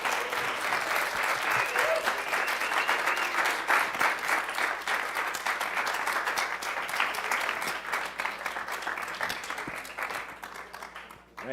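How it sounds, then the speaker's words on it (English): An audience applauds a student who has just finished presenting her graduate research on groundfish community structure, with steady dense clapping throughout that thins slightly toward the end. "let's give Lauren a big round of applause."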